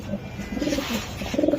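A racing pigeon gives soft, low repeated coos close by, a short throaty burst over a light background hiss.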